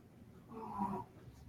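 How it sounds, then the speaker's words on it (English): A dog snores faintly, a single soft, rumbling breath swelling and fading against quiet background. "That's my dog snoring."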